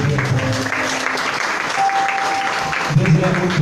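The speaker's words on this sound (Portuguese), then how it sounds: "Aplauda o nome do Senhor." A church congregation claps during a worship service, a sustained wash of applause running throughout, with people speaking over it and a brief tone sounding midway.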